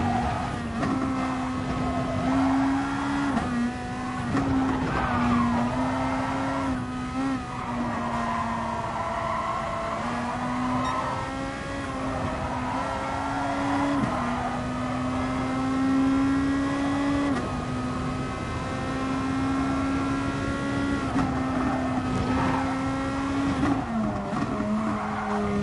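Race cars in a PS4 racing video game roar continuously, engines revving and shifting with tire squeals and skids, loud and sustained with no pauses.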